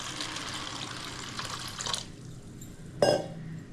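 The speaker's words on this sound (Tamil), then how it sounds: "இந்த ஜவ்வரிசி முழுகிற அளவுக்கு தண்ணி ஊற்றணும்" Water poured from a container over washed sago pearls in a bowl: a steady splashing pour for about two seconds, then quiet, then a short louder splash near the end, with no talking.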